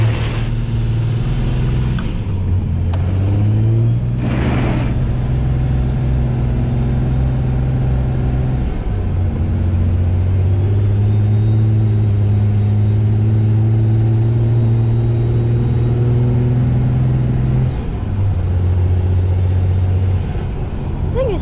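A white diesel dually truck cranks, then runs at a loud, steady idle close by. Its engine tone rises and falls over about twenty seconds, with brief air-release hisses between.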